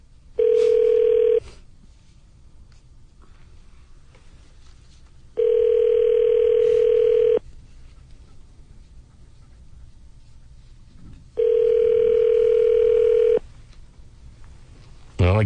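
Telephone ringing unanswered on a call: three loud, even ring bursts of about two seconds each, separated by about four seconds of quiet line noise.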